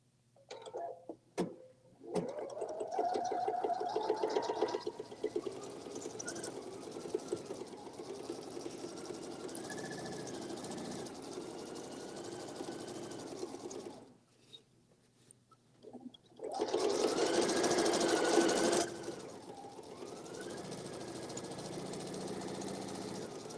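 A sewing machine running at speed while stitching a quilt, a steady close whirring drone that stops briefly and then starts again louder, with no talking.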